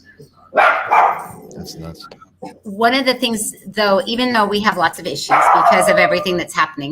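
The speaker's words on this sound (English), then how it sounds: "I'm sorry about my dogs." Dogs bark in short bursts in the background while one person talks steadily over them.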